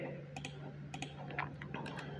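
Someone types on a computer keyboard during an office application exam exercise, with short bursts of soft key clicks separated by pauses, quiet over a steady low hum and no talk.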